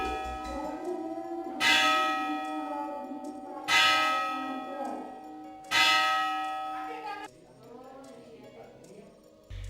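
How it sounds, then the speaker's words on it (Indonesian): The bell of the Jam Gadang clock tower in Bukittinggi strikes three loud, ringing chimes about two seconds apart, each decaying slowly, heard close up beside the clock mechanism while a voice talks. "disambut langsung dentang bunyi lonceng jam yang begitu nyaring"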